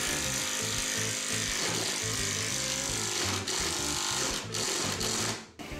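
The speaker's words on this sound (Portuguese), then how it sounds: "a peça está fixada com o jig 90 graus, agora é só furar" A power drill bores into a wooden workpiece clamped in a 90-degree jig, a loud continuous motorised whir with a steady rhythmic pulse that holds throughout and briefly dips near the end.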